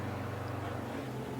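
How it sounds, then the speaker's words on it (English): A steady low lawnmower engine drone hums continuously in the distance, muffled and even, running outdoors. "my husband is mowing the lawn outside."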